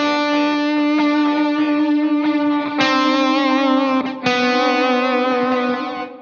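Guitar through a Wampler Catacombs delay/reverb pedal with reverb engaged: rich sustained chords ring out with a lush, smeared tail, briefly cutting out and restarting twice, loud and close without any speech.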